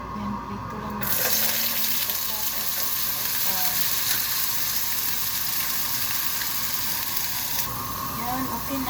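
Oil sizzles steadily in a pan while chicken curry is being fried, a loud, continuous frying hiss that runs through the whole stretch with faint kitchen clatter beneath.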